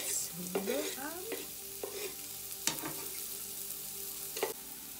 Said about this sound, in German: heute machen wir mal Wirsinggemüse und dafür brate ich Zwiebeln an